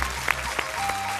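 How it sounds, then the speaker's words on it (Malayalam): Studio audience applause for the teacher on a Malayalam TV game show, a brief burst of dense clapping with faint crowd murmur beneath. "മാഷിന് നല്ല കൈയടി."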